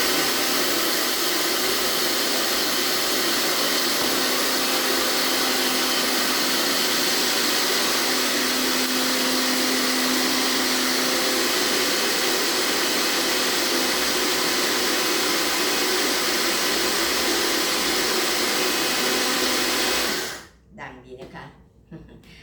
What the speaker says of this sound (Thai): อันนี้เป็นเครื่องปั่นนะคะ จะเปิดนะใช้ไฟ ปั่นนะคะ